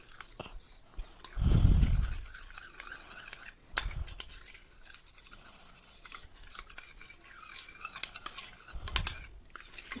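A spoon stirs milk mixed with custard powder for kulfi, making quiet scraping and clinking in a pot with a few louder thumps of handling, and no one speaks.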